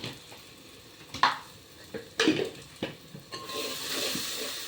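A spoon scrapes and clinks in a pan as spice powders and garam masala are stirred into a South Indian rajma base, with faint sizzling and a few knocks against the pan's sides.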